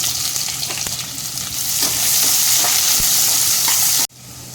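Chopped onions sizzle and crackle loudly in hot oil, a steady frying hiss with occasional stirring scrapes, cutting off abruptly near the end.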